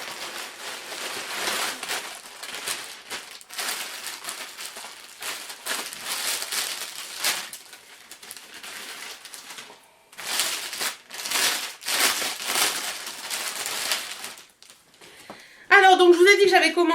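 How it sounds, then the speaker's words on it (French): A mail-order package is torn open and unwrapped up close, with continuous crinkling and rustling of plastic packaging while someone talks over it. "on va passer à l'ouverture de la commande que j'ai reçue ce matin"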